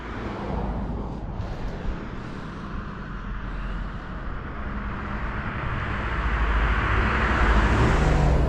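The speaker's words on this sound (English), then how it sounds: "Always a lot of traffic at this time of day" Roadway traffic on a Saturday out in the county passes near a fishing spot, a continuous broad rushing roar that swells louder toward the end, with no talk over it.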